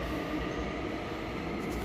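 Train passing close by, a loud continuous rumbling roar of wheels on rails that stays steady and dense throughout the short stretch.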